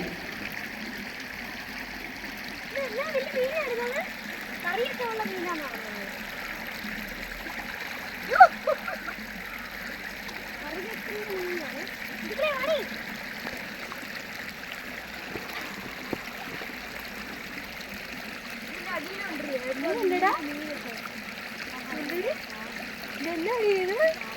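A Pomeranian puppy paddles and splashes in a shallow stream, small gurgling and trickling water sounds running steadily under scattered voices talking and chattering nearby.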